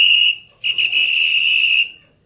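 A whistle is blown twice in a stage comedy to summon a servant: a short shrill blast, a brief pause, then a longer sustained blast, loud and close with no talk.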